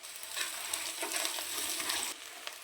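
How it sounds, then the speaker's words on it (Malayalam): Dried shrimp frying in oil in a pan with onion and green chilli for a breadfruit masala, giving a steady broadband sizzle with stirring scrapes throughout, alone with no talk. "സാധനങ്ങളെല്ലാം സൈഡിലോട്ടാക്കിയിട്ട് ആ എണ്ണയിലോട്ട് ഉണക്കച്ചെമ്മീൻ ഇട്ട് കൊടുക്കുക."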